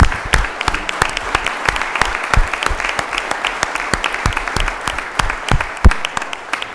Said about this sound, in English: I wish everyone in attendance would put their hands together for this wonderful group of people